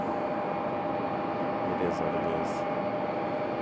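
Near Raleigh-Durham International Airport, an Embraer E175LR jet airliner gives off a steady broad jet-engine roar with a faint whine, while someone talks briefly over it.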